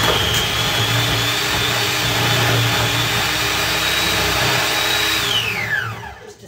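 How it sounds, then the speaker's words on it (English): A food processor chopping 100 grams of butter, a steady loud motor whir with a low hum that holds, then spins down and fades at the end, with no talking. "I've got 100 grams of butter in my food processor that I'm just gonna whisk, you know, chop up"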